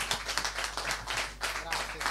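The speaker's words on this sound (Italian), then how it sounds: "Intanto facciamo un grande applauso a Poli che è venuto qui." A small audience at a bass clinic claps for bassist Lorenzo Poli, uneven close hand claps in quick bursts with talking mixed in and a steady low hum beneath.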